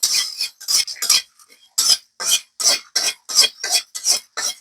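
Coriander and cumin are dry-roasted and stirred in a dry kadai for ghugni, making a close series of about a dozen sharp, rhythmic scraping strokes with short pauses between them.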